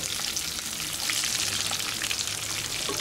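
Green chillies and chopped onion fry in oil in a pan, making a dense, even, close crackling sizzle that holds steady throughout with no speech.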